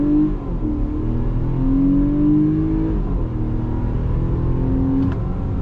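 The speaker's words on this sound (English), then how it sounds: "Let's go ahead and do a little bit of on throttle." A 2022 Nissan Pathfinder midsize SUV pulls away from a dead stop under throttle, its engine note rising in a steady drone with smooth gear shifts, heard from inside the cabin and continuous throughout.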